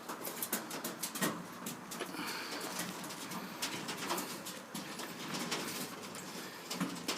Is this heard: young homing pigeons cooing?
yes